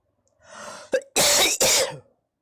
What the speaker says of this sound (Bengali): আমার একটু ঠান্ডা লেগেছে তাই জন্য আমার কাশি হচ্ছে